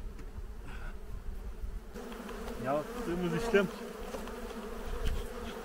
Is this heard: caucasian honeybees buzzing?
yes